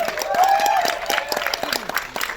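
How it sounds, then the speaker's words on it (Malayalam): Steady applause from a press meet audience, a dense wash of clapping that holds for a couple of seconds, with a brief whistle-like tone rising over it. "ഒരു കൈയടി സ്പെഷ്യലായിട്ട് കൊടുത്ത് തന്നെ വിളിക്കണം"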